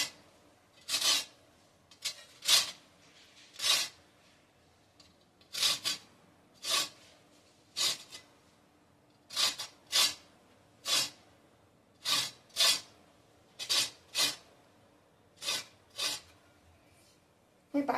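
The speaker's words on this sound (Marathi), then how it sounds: "अशी एक किसणी घ्यायची आणि ह्या किसणीने ती साल अशी किसायची" Ridge gourd peel scraped on a hand grater, a steady series of short rasping strokes in an even rhythm, close and distinct against quiet background.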